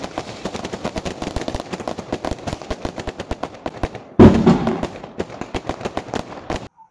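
Diwali fireworks and firecrackers burst in a dense, continuous crackle of sharp pops, with a louder, heavier blast standing out near the end, all heard outdoors without speech.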